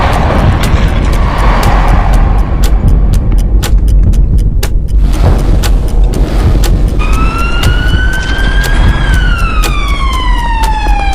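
Race cars in an audio-drama race scene whoosh past loudly in a dense, continuous roar, with sharp clicks and a rising, swooping siren-like boost whine layered on top toward the end; no voices.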